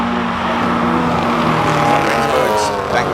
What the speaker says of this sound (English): He's underway in his Sirocco Mark 1.